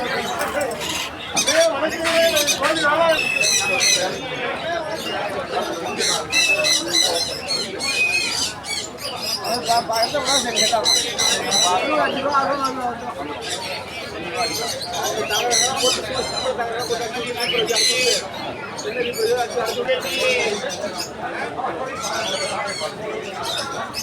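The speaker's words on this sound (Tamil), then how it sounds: "புறாலாம் சூப்பராக இருக்குங்க." Pigeons and other birds squawk and chatter steadily at the Ponmalai market in Tamil Nadu, a dense layer of calls over the busy crowd noise, with people talking throughout.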